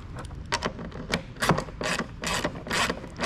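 Ratcheting clicks from a hand wrench tightening mounting bolts on Polaris Punch lights, coming in quick bursts of close, crisp mechanical clatter with short pauses between strokes.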